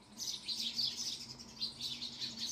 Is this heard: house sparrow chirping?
yes